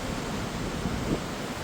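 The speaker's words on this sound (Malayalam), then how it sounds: "തിരമാലകൾ ആഞ്ഞടിക്കുന്നു." Ocean waves crash on the shore at Palakkunnu in Kasaragod district, heard as a constant broad roaring wash mixed with wind buffeting the microphone, with no talking.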